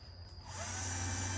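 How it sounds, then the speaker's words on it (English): A small power drill with a #1 Phillips bit spins up from near silence into a steady high whine, running continuously and close by, while finishing side trim. "I always use this tiny little drill with the #1 Phillips."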